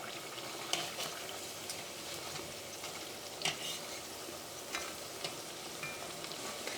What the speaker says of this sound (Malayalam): നമുക്ക് മറ്റേ സൈഡും തിരിച്ചിടാം.